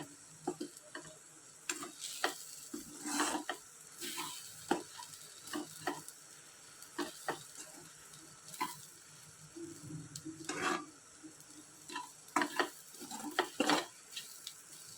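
Ivy gourd being stirred in a frying pan, a spoon scraping and clinking against the pan in irregular bursts over a soft, steady sizzle, close and alone with no talk.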